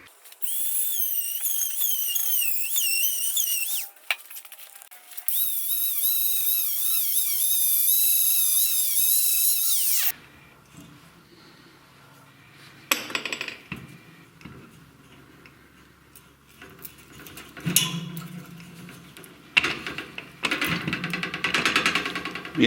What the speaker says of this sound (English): you get a Dremel and you grind away the rust